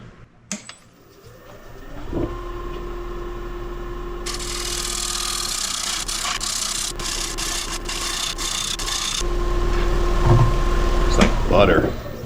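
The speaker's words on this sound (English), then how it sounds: "It's so satisfying cutting with a sharp tool." A sharp woodturning gouge cuts an alder bowl spinning on a lathe, producing a steady motor hum overlaid with a continuous scraping, shaving sound that grows louder toward the end.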